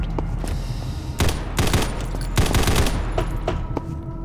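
Bursts of automatic gunfire at a shooting range in the PC game Combat Master, loud and close, firing in several rapid volleys with short pauses between them.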